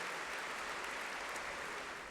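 Audience applause after an evening public debate on whether it is reasonable to believe in God. A constant, even roar of many hands clapping fills the hall, heard from a distance and fairly quiet.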